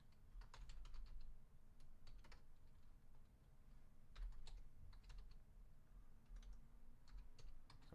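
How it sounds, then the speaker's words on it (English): Typing on a computer keyboard in quick bursts of close, crisp key clicks with short pauses between runs, fairly quiet over a soft room background. "Sorry, I'm typing sideways."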